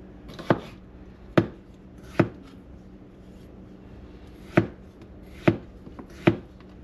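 Potatoes are chopped into chunks with a knife on a cutting board at a camp cook-up: six sharp, separate knocks at uneven intervals, close and clear, with no talk.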